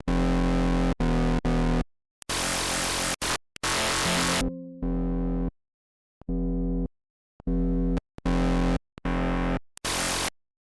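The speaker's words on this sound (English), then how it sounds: "I have this diode 1 distortion" Aggressive Serum synth bass run through diode 1 distortion at high drive with OTT compression, loud gritty chopped notes in short bursts separated by brief silences, alone with no talk.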